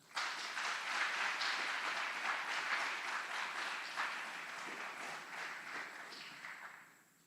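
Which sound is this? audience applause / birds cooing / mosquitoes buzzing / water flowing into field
audience applause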